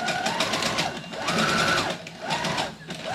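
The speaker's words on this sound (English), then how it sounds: "And my sewing machine is a Brother CS6000i." A Brother CS6000i sewing machine runs a zigzag stitch up close, its motor whirring loudly in steady bursts that speed up and slow down, with brief pauses between runs and no talking.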